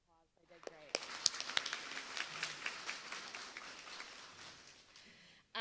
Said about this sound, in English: If you'll give them a round of applause, they did great.